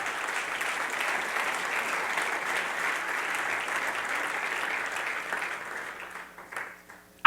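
A church congregation applauds together in a sustained, even burst of clapping that holds steady for several seconds, then thins and fades out near the end.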